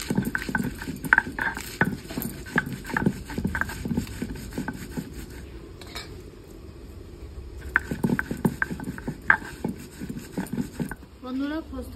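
Poppy seeds and green chillies are ground on a stone grinding slab, giving close, rhythmic scraping and knocking strokes that repeat steadily, with a voice briefly heard.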